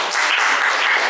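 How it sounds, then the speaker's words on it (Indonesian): A short burst of even, dense clapping comes from a group after class presentations, with no voices over it. "beri tepuk tangan untuk kita semua"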